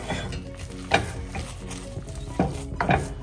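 A ragi mudda mixture is stirred in a pot, with thick, sticky scraping strokes and soft knocks against the pot in an uneven rhythm, loud and close.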